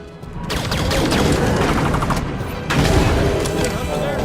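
Dense, loud bursts of automatic gunfire in Halo 5 as fire is poured onto a Hunter, rapid overlapping shots running continuously with a brief dip and then a renewed heavy volley.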